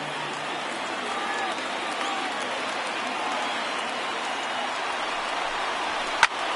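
Large stadium crowd of over 39,000 in the MLB The Show 19 baseball video game, a steady broad roar of cheering held throughout, with a brief sharp crack near the end.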